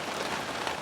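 Steady rain pours down on a flooded, waterlogged pasture beside a completely full ditch, a dense even hiss of drops striking water and wet ground, constant and close with no pauses.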